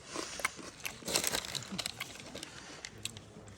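Crisp, dry crunching of dried apple crisps being bitten and chewed up close, a steady run of crackly bites with no talking.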